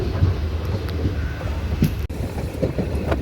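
A moving train rolls along its route toward Ernakulam, giving a steady rumbling wheel-and-rail roar heard from on board. Faint clicks and a brief clunk sit over the continuous noise.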